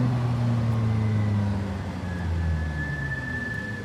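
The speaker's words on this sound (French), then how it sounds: "ce que vous entendez grincer, c'est les freins céramiques" A thin, steady high-pitched squeal from ceramic brakes rises over the low rumble of a McLaren 675LT MSO moving at slow speed, heard from inside the car.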